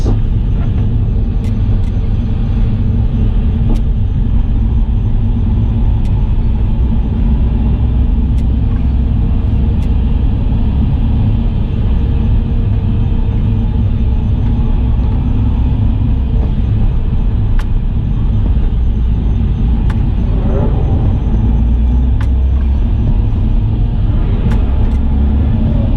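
A modified car driven hard around a track, its engine rumbling loudly and continuously up close with steady low-end roar throughout, no voices over it.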